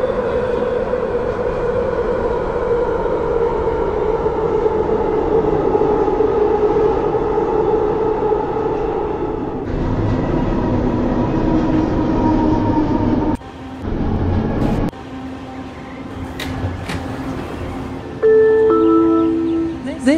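A Bombardier ITCS Mark 1 SkyTrain car on the Expo Line rumbles and hums loudly from inside, with rising motor whine, a sharp break in the noise, then braking tones and squeals near the end.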